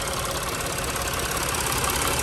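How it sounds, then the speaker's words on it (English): A Mercedes Sprinter van engine in limp mode with fault code P2610 idles close with a rough, uneven churn and constant mechanical rattle, with no voices. "But here's the way the engine sounds."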